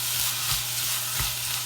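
Gondre greens and glutinous rice stir-fry in sesame oil in a stainless pan, giving a soft, steady sizzle with faint rhythmic scrapes of stirring, and no talking.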